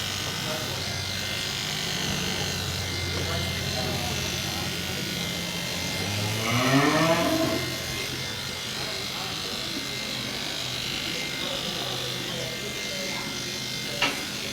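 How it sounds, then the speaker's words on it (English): Electric clippers buzz steadily while trimming hair on a show animal, likely a goat, working around bones and curves, with a brief louder swell mid-clip; a voice talks over the hum throughout. "he's changing the angle of his clippers all the time, trying to get in between each bone and curve"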